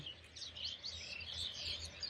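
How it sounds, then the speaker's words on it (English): Several birds call and chirp outdoors, their bright tweets overlapping continuously above a soft low rumble, with nobody speaking. "Oh, the birds. The birds."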